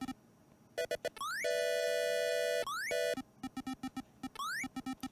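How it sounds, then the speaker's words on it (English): Boss music from the Taz-Mania video game, a harsh electronic chiptune of rapid staccato beeps, rising pitch sweeps and long sustained buzzy tones, loud and continuous with no talk. "Oh, it's the boss music, except now it's for this stage."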